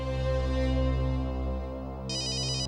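A phone rings with a steady electronic ringtone, a sustained tonal melody that plays loud and alone, with a brief buzzy trill near the end.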